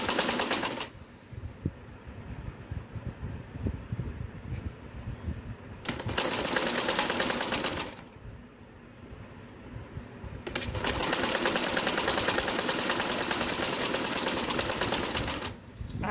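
A sewing machine stitches two back pieces of a salwar together in long motor bursts, with quieter pauses between runs.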